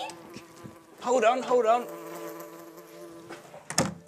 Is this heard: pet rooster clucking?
no